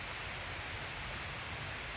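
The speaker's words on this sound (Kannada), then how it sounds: "ಮಳೆ ಬಂತು ನೋಡಿ" Steady rain pattering on leaves and ground under trees beside a lotus lake in Coorg, a dense, even hiss that continues without a break and stays close around the listener, with no voices heard.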